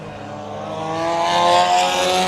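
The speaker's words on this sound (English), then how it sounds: "And Lucas Onis almost gets spun" Race cars roar past on the speedway during the So-Cal Enduro 300 at Willow Springs, one car nearly spinning out; a loud, rising engine drone builds over about two seconds with dense high-pitched whine.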